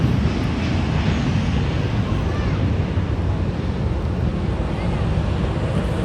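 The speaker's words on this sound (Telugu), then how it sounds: "చూడండి ఫ్లైట్ ఒకేసారి ఇంకొక ఫ్లైట్ కూడా వస్తుంది" Jet aircraft taking off and landing at RDU airport on an evening roar as a steady, broad, loud engine rumble with wind buffeting the microphone, lasting the whole stretch.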